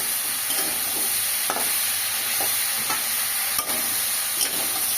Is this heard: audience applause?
no